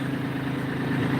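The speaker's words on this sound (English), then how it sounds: "This is the tractor." A Kubota LX2620 HSDC cab tractor idles steadily, its engine giving a low, constant hum that stays even and close throughout, with no voices over it.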